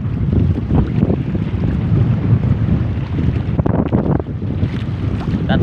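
Strong northeast monsoon wind roaring across the open sea, buffeting the microphone with steady low rumble and gusts, splashing water and waves around a fishing boat throughout.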